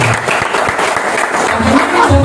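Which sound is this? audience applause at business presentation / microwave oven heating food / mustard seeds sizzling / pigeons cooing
audience applause at business presentation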